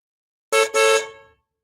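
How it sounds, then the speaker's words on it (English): A car horn in Bermuda gives two quick honks, the first short and the second longer, loud and close against silence. "We honk our horns when we speak."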